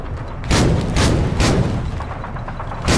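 Gunfire aimed at an AT gun in the war game Foxhole: a rapid volley of broad, booming shots, several loud blasts in a row with rumbling tails between them, close and forceful, no talking.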